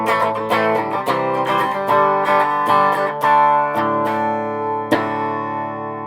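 Clean electric guitar played through an Orange TH30 amp's clean channel into a 3x12 cabinet with a reverb pedal, strummed chords and picked notes ringing out with a reverb wash, close and steady with no talking.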